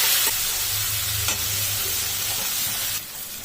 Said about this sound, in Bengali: জল দিয়ে ভালো করে মশলাটিকে কষে নেব।